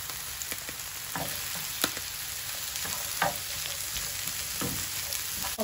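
Bell pepper frying in a pan over high heat, a steady close sizzle with occasional sharp clicks and scrapes from stirring.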